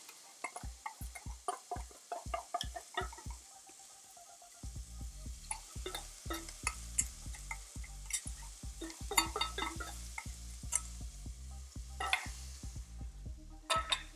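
Homemade steak sauce sizzles in a pan as it is stirred, with quiet frying at first and then louder, crisp clicks and scrapes of the utensil repeating against the pan over a constant bubbling hiss.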